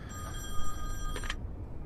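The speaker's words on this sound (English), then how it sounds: "Phone's ringing. Answer the phone." In the video game The Wolf Among Us, a telephone rings in a faint, brief bell burst that sits over a steady low background hum.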